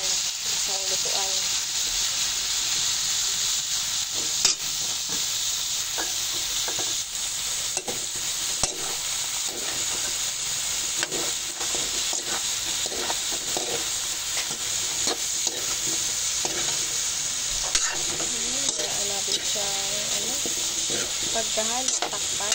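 Vegetables and pork stir-fried in a pan, a steady loud sizzle running throughout with repeated scraping stir strokes and occasional faint voices in the background.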